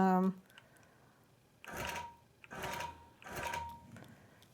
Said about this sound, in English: take some stitches and start stitching